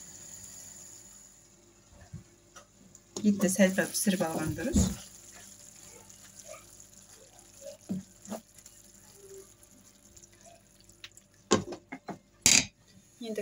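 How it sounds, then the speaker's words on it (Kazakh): Water is poured over minced meat in a pan for stewing for a meat pie filling, a brief splashing sizzle burst followed by quieter clinks while someone talks. "Су құйып, осылай бұқтырып аламыз."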